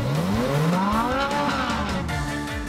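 A car engine revs hard through multiple exhaust pipes, its pitch climbing and swooping in a loud, continuous roar with changing tones and no talk.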